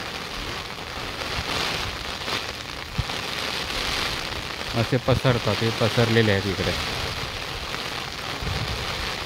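Light drizzle falling outdoors during rice paddy transplanting, a steady hiss of rain with a burst of rapid patter on plastic sheeting midway, while people talk nearby.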